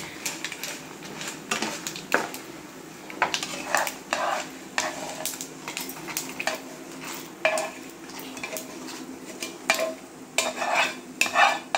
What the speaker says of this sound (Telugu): మాడకుండా ఫ్రై చేసుకోవాలి అంతే.